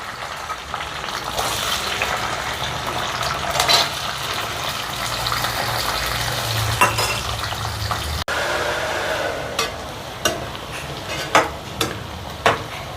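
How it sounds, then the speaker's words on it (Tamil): Garlic fries in sesame oil with a dense, continuous hiss and crackle, then a few sharp pops and spatters stand out toward the end. "நல்லெண்ணெய் ஊற்றிக்கலாம் பூண்டை போட்டு இதில் வதக்கிக்கலாம்"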